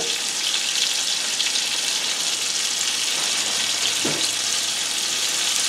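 Steak pieces sear in a pan, a loud, dense, continuous sizzle heard up close with no talk, bound for a garlic butter pasta.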